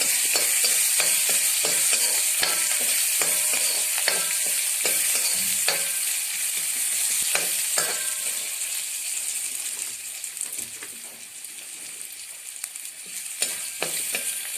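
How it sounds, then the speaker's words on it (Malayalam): Chili, curry leaves and onion fry in hot oil as elephant foot yam is stirred in, a continuous loud sizzle with repeated scraping spoon strokes that gradually softens toward the end. "മൂക്കുമ്പോൾ ചേന അതിലേക്കിട്ട് ഇളക്കിയെടുക്കുക."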